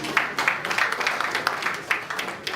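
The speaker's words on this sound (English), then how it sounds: "A round of applause for him, please" Crowd applause, steady clapping from many hands filling the room for a couple of seconds.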